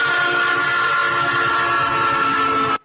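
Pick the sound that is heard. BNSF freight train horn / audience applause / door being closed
BNSF freight train horn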